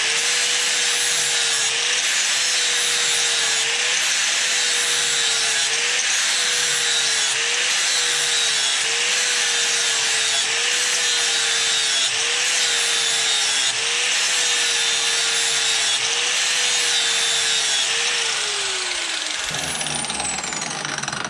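A power grinder whines steadily against a Stiga lawnmower blade, a loud, sustained abrasive rasp with rhythmic dips in pitch as the tool is pressed and eased, then spins down.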